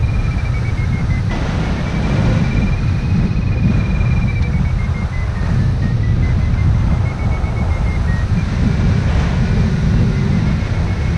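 A hang gliding variometer's warbling electronic beeping tone wavers steadily during a fast climb, over a loud, constant roar of rushing wind.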